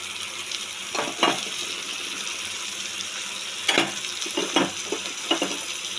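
Spice paste goes into a pan of frying fish, producing a continuous close sizzle with several sharper bursts of crackling and spattering as the paste hits the hot oil.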